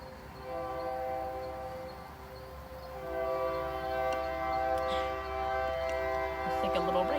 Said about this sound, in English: I do have a train near me. It always goes off when I'm doing these videos.